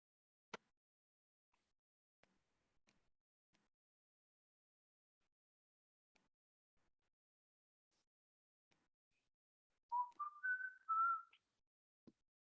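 A person whistles a brief rising tune in an otherwise near-silent room at a housing forum, faint and close, preceded by scattered small clicks and taps.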